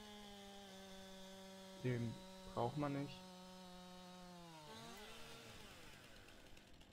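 A chainsaw cutting a small tree stump in Farming Simulator 19 drones with a steady buzzing tone, its pitch dipping near the end, while someone speaks briefly over it.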